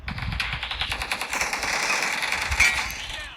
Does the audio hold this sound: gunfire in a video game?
yes